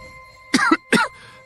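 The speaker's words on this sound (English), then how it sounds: "Cough, cough." Two short, harsh coughs from one person, close and clear, with a little throat rasp and a quiet pause between them.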